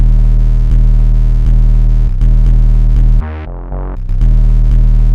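Deep booming 808 bass under a melody whose tone keeps shifting in brightness from EQ automation, with a brief filtered, muffled break before the full sound returns.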